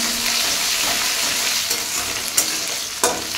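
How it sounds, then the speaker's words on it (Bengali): Potatoes fry over high heat in oil tempered with cardamom, making a loud, dense, steady sizzle close up, with a couple of sharp stirring clinks near the end. "গ্যাসটা বাড়িয়ে দিলাম, আলুগুলো ভালো করে ভেজে নিই"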